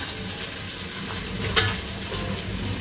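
Carrots and other chopped vegetables sizzle steadily in hot oil in a pan for vegetable biryani, a continuous close fry with a few brief stirring scrapes and no voices.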